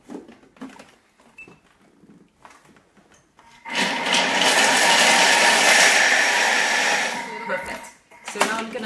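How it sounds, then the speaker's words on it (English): Cashews and soaked almonds are ground in a blender, a loud, steady whirring burst of about three seconds, then a brief stop and a short restart, with talking before it. "So what I do is we just grind them up a little bit, do the nuts first."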